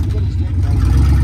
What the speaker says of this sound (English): Oh, plywood burnouts.